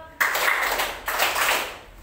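Two sharp hand claps, each followed by a brief ringing tail, spaced about a second apart.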